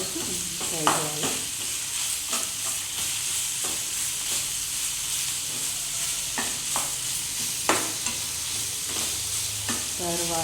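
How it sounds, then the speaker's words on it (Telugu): Ginger garlic paste fries in a pan with a steady, close sizzle, broken by the clack of a spoon as it is stirred now and then. "కొంచెం పచ్చివాసన పోయే వరకు అల్లం వెల్లుల్లి పేస్ట్ ఫ్రై చేయాలి."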